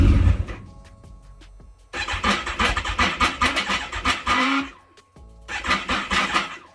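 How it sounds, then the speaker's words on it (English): A Kawasaki ZX14R motorcycle starter cranks in repeated rapid bursts, the engine catching briefly then faltering with a check engine light on, with pauses between attempts and a faint electrical whine. "I'm not sure why the starter is sounding like that"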